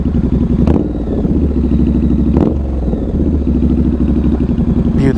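A Triumph Scrambler 1200 motorcycle with an aftermarket exhaust runs steadily up close, its deep rumbling engine held loud throughout with three sharp blips of throttle spaced across it.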